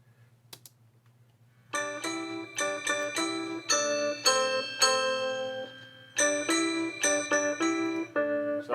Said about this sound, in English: it's a Wurlitzer mixed with a little toy piano.